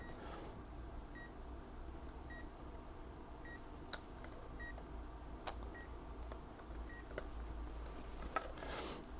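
Short electronic beeps from a used power supply under test repeat at a steady pace over a low hum, quiet and close, with a few faint clicks between them.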